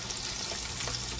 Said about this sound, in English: You want to add about a tablespoon of olive oil in here and let these start frying.